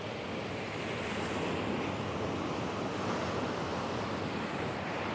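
Ocean waves crash and wash continuously around the rocks at Burleigh Heads, a loud, steady roar of surf with wind noise buffeting the microphone.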